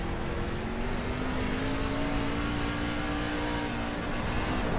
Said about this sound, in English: I think he's got some engine damage, seen hearing his engine sputter like that